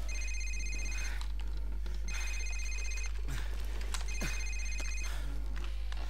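Mobile phone ringing in the video game Modern Warfare, a repeating electronic ring in three bursts about a second each, separated by short gaps, with quieter game sounds underneath.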